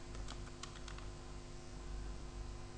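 A computer keyboard is typed on, with a quick run of light, close key clicks early on before the tapping fades into a low steady background hum.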